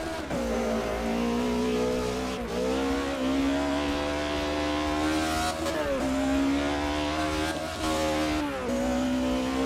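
A car fitted with dirt tyres is driven in a racing sim video game, its engine droning loud and continuous as the revs rise and fall through repeated gear shifts.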